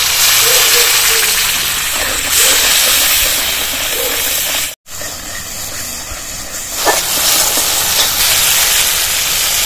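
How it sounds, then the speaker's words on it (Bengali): Water poured into a hot pan of cabbage kofta curry with tomato paste and spices gives a loud, sustained steam hiss and sizzle that runs throughout, briefly cutting out midway, with no talk. "জল দিয়ে দিচ্ছি।"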